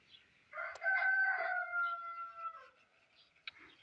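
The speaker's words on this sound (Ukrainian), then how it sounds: "Півник допомагає мені коментувати." A rooster crows once, a long loud cock-a-doodle-doo that rises and trails off, with a few faint knocks in an otherwise quiet village setting.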